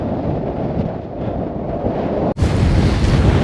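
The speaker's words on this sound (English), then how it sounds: "it is incredibly windy up here" Loud, steady wind roars and buffets across the microphone on a hilltop, a dense rumbling rush with a brief dip before gusting back even stronger.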